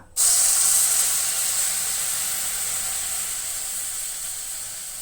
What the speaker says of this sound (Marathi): आतां भितर हांव इल्लेशें गरम उदक ॲड करतलें.